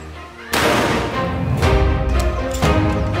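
A shotgun fired at a helmet on a shooting range: three loud, close blasts spaced about a second apart, each ringing briefly before the next.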